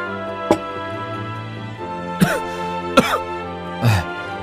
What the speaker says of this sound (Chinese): 你咳嗽越来越严重了